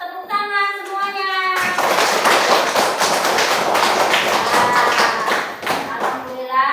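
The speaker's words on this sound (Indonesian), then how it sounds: "tepuk tangan semuanya" A classroom of children at an Indonesian school claps together in a brisk, loud burst after a lesson, preceded by a teacher speaking and followed by talk as the clapping fades.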